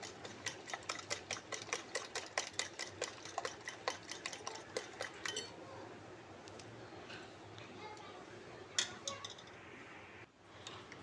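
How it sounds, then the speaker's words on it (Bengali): Sugar being whisked into eggs for egg halwa, a fast rhythmic clatter of utensil against bowl for several seconds, then quieter stirring with a couple of louder knocks. "চিনিটা দিয়ে আমি আবারও খুব ভালো করে এই ডিমের সঙ্গে মিশিয়ে নেব"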